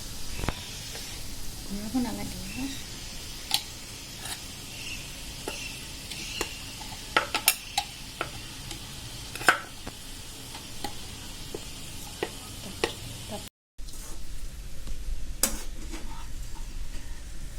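Chicken and banana flower get stirred in a pan over a soft sizzle, with scattered scrapes and clacks of the spoon against the pan, fairly close.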